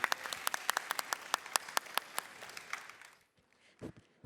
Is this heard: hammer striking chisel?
no